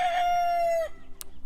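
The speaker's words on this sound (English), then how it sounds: "Rocky's here to tell us that it's morning." A rooster in a backyard flock of laying hens lets out a single long crow that trails off, fairly loud and close, followed by a brief sharp chirp.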